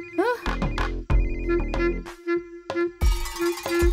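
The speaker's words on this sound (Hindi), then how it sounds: "किसका फोन रिंग हो रहा है?" A mobile phone rings in a Hindi-dubbed South Indian film scene, its repeated tonal ringtone chiming through loud dramatic music and sharp impact hits, with voices shouting in between.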